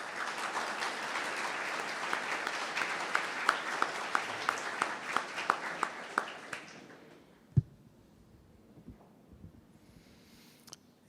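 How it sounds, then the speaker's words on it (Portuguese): A church audience applauds to welcome Pastor Naldinho, a dense burst of clapping that fades after several seconds, followed by scattered knocks and handling sounds in a quieter room. "eu queria receber com grande carinho uma salva de palmas"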